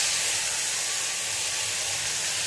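Onion paste sizzles loudly in hot oil with whole spices (bay leaf, cardamom, cloves, cinnamon and cumin), a dense, continuous hissing fry that stays steady and close.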